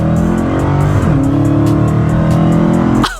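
A red Dodge SRT Demon with an SRT engine revs hard and loud, a sustained roaring drone whose pitch shifts and climbs over about three seconds before cutting off abruptly at the end.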